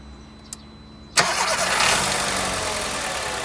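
A small click, then a 2003 Volkswagen Golf 4 1.4 engine cranks and catches, settling into a steady, fairly loud idle close by.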